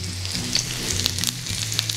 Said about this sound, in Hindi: मैं इसमें अदरक डालूँगा, टी स्पून है ये